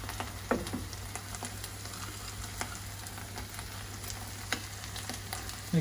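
Nuts and raisins being stirred through a frying pan, a low steady sizzle with a few scraping clicks from the spoon, close and fairly quiet with no talking.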